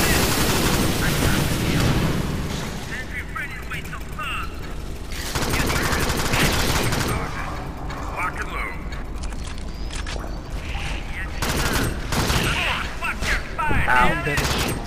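Rapid gunfire in the top-down shooter Alien Swarm as players blast alien eggs, sustained loud bursts of automatic fire with thuds and impacts, players chatting over the constant shooting.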